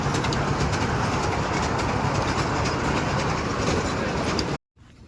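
Steady rumble and rattle inside a moving passenger train bound for Elephanta, continuous and close, with faint background voices, cutting out briefly near the end.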